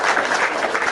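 Applause at a live interfaith debate, a dense, steady wash of clapping filling the whole short moment, fairly loud and close, with no voices over it.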